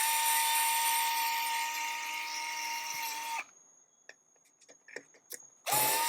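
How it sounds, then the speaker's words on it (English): Power screwdriver on the back panel of a Tornado Pro wall fan, whining loudly and steadily for about three seconds, then a pause filled with small clicks and handling taps before the driver starts up again. "I'm just going to unscrew these 4 screws."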